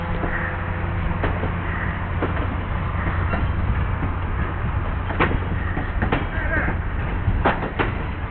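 Circus train rolling past on rails, a steady rumbling with metallic clanks and squeals from the passing cars, while people talk nearby.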